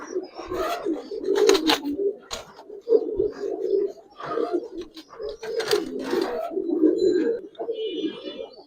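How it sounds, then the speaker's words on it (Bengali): Giribaz pigeons coo close by in repeated soft, throaty bursts that rise and fall over several seconds, with a little fluttering and no voices. "দেখার মতো কবুতর ভাই।"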